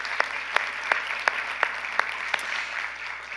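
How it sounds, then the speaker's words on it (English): A slow, even run of single claps, about eight sharp hits at a steady pace over a low background hum. "let's give him a round of applause for that"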